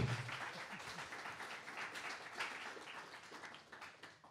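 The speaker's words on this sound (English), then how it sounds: "Can we have another round of applause for these guys?" Faint, distant applause from an audience at a community panel event on sports as a business, with scattered clapping that thins out over a few seconds.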